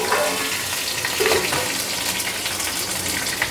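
Green chilies sputter in hot ghee with radhuni and fennel seeds as a tempering for a vegetable dish, a continuous bright, crackling sizzle at close range, steady throughout with no voices.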